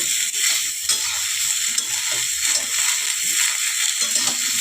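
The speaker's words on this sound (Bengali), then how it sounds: "আমার ফুলকপিগুলো হয়ে গেছে, ভাজা হয়ে গেছে" Turmeric-soaked cauliflower pieces frying in hot oil in a pan give a continuous bright sizzle and crackle, with faint scraping of a utensil underneath and no talk.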